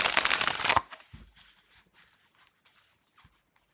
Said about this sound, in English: now I'm going to give them a quick shuffle and show you what they look like on the table this way